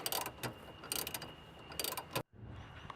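A 10mm ratchet loosens a fuel filler hose clamp on a Toyota Prado, giving close, loud bursts of rapid pawl clicking in several strokes, then a brief silence and quieter clicking with no talk.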